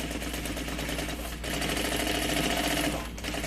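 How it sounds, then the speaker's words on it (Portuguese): A sewing machine runs a continuous stitch along the edge of a large bag, a steady close whirring buzz with a brief dip midway, no voices. "E aí, é só fazer uma costurinha bem na beiradinha."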